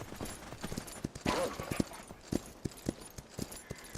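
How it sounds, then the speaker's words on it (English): Clip-clopping horse hooves in the Myth of Empires video game: a string of sharp, evenly spaced hoof strikes at a walking pace, fairly close, with a brief swell of rustling noise partway through. "Here comes a horse right in front of me."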